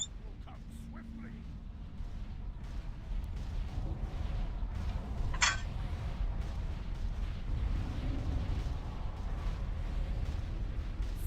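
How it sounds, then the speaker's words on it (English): Ship cannons firing aboard an airborne gunship during a World of Warcraft raid battle, rumbling blasts and booms spread through dense combat noise, with voices talking over the fighting. "shut down those cannons"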